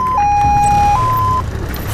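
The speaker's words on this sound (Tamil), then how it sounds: "இது என்னது? ஆம்புலன்ஸ்." An ambulance siren sounds loud and near, holding one steady tone, then dropping to a lower pitch and stepping back up, with faint low rumble beneath and no talking.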